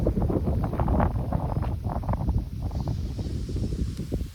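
Steady, heavy wind buffeting a microphone, a continuous low rumbling roar with gusty fluctuations throughout.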